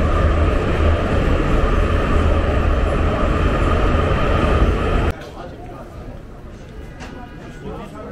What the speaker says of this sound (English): It was actually a long metro ride.